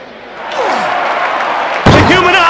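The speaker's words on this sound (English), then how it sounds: "The human oddity slammed onto the man!" Heavy body slam of a wrestler crashing onto an opponent in WWF Attitude on Dreamcast, a single loud impact thud landing partway through after a rising whoosh, over crowd and game noise.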